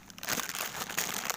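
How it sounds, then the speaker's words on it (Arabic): A plastic bag of sugar is opened in a home kitchen while making carrot jam, giving a continuous close crinkling and rustling of plastic for about a second and a half. "وهفتح كيس السكر ده كده اهو، واحط عليه واقلبه ببعضيه"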